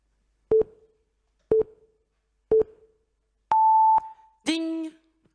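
A bank notification sound effect: three short evenly spaced electronic beeps, a longer higher beep, then a bright ringing ding that decays, all loud and clean against silence.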